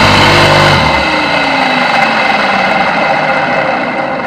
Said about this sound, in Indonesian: Ini mesin pompa air yang sudah saya beri saklar on off